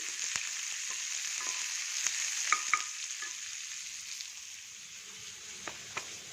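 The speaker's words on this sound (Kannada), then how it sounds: "ಈರುಳ್ಳಿ ಸ್ವಲ್ಪ ಫ್ರೈ ಆದರೆ ಸಾಕು" Onion, green chili and curry leaves sizzle steadily in a hot pan, with a constant frying hiss and a few sharp clicks of a utensil stirring, close and unbroken, no voices.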